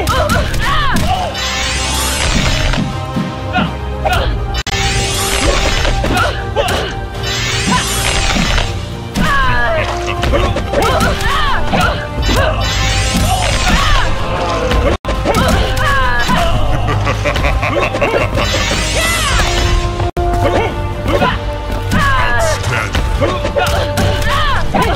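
Fight hits in the Mortal Kombat Defenders of the Earth video game, repeated thuds and smacks over loud game music, with an announcer voice and character shouts throughout.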